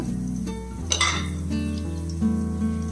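A quarter teaspoon of fenugreek seeds fries in hot oil for a fish curry, giving a steady close sizzle with a sharp clink of a utensil against the pan partway through.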